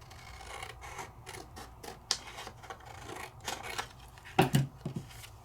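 Scissors snip through card stock with a series of crisp, uneven cuts and papery rustles, close and fairly quiet, with a sharper snip near the end.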